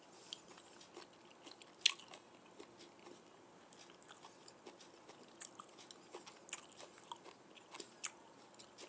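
Garlic fried until crisp is crunched and chewed up close, with soft irregular bites and a few sharper crackles spread over the quiet stretch.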